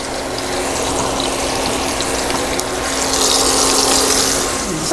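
Flour-dredged green tomatoes frying in a pan, a loud, dense, steady sizzle and crackle of hot oil throughout, growing slightly brighter toward the end.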